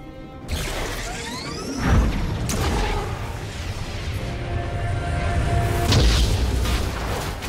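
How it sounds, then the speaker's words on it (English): A heavy booming blast as a turret is destroyed in League of Legends, one loud crash near the two-second mark with another swell later, over a continuous rumbling game soundscape. "Red team's turret has been destroyed."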